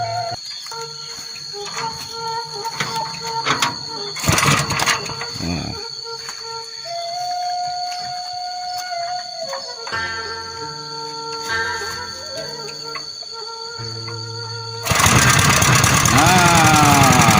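An engine on a rice threshing machine is started in a village paddy field at harvest. Mechanical clanks and tonal hums come first, then the engine bursts into a loud, dense roar for the last few seconds.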